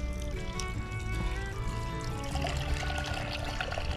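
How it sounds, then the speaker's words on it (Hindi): Water poured into a bowl of laphing dough for Tibetan street food, a steady splashing trickle close by that carries on for the whole stretch with no talk over it. "अब इसमें डालेंगे पानी"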